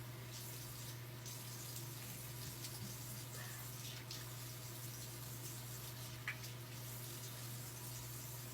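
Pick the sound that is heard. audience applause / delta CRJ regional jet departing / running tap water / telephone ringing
running tap water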